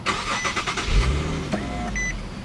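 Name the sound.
2012 Infiniti G37 engine starting via push button start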